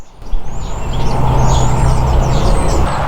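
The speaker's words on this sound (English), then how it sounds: "There are so many birds and squirrels out here." Birds chirp and tweet outdoors in nature, a scattering of thin high calls over a steady low rumble of distant road traffic.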